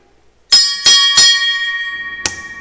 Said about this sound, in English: a flip of a switch, and ringing of the bell, the horses are off